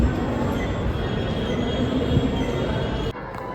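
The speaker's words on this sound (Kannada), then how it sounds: "ಮೆಟ್ರೋ ಬಂತು." A metro train at a station gives a loud, close, continuous rumble with wheel noise that drops off abruptly near the end.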